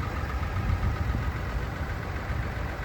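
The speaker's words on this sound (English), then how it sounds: "2024 GMC Sierra AT4 with the mini Duramax 3-liter engine." A 2024 GMC Sierra AT4 pickup with the 3.0-liter Duramax diesel idles steadily, a close, even low rumble with a faint knocking texture and no talk.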